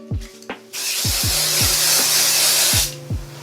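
Hairspray from an aerosol can misted over hair curled with a straightener, a steady hissing burst of about two seconds framed by light knocks and handling clatter before and after.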